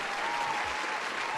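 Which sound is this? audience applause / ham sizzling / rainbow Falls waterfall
audience applause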